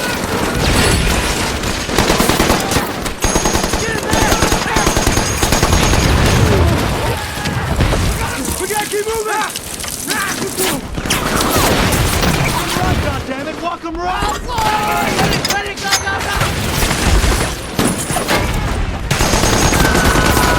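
Machine gun fire in a World War II battle scene, sustained bursts and booming blasts layered with shouting voices and music, loud and dense throughout.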